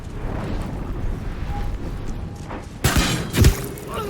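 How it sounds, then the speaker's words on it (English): Weapon shots fired in turn-based combat in Baldur's Gate 3. Two loud, sharp impacts land close together near the end, with a booming crack and a heavier thud, over a low ambient game background. "And let's fire some shots."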